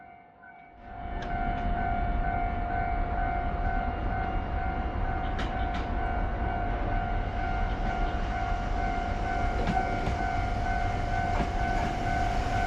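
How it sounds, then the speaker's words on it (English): A Mizushima Rinkai Railway Christmas train rumbles past close by, a steady loud roar of wheels and carriages with a sustained high tone and occasional squeals and clanks. "This is the Christmas train again"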